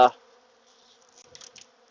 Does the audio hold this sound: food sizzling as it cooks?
no